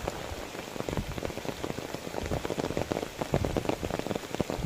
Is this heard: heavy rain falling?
yes